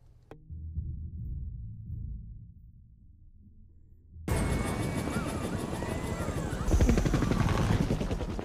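A helicopter scene from the movie Spy Kids 2 cuts in after a quieter low rumble: loud whirring rotor noise with mechanical clatter that swells further near the end, mixed with film sound effects.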